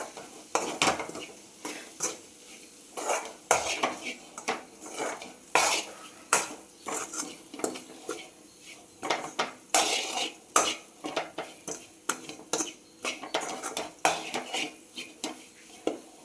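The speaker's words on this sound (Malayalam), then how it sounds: "നമ്മൾ തേങ്ങ ഇടുവാണേ. അതൊന്ന് കൂട്ടി യോജിപ്പിക്കണം." Grated coconut stirred in a pan with a metal spoon, giving repeated scraping and clinking strokes against the pan at an uneven rhythm, close and moderately loud with a faint sizzle underneath.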